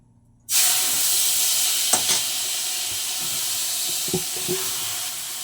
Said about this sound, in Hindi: इसमें डाल दिया देसी घी। अब इसको डालेंगे, गाजर को डाल के भूनेंगे।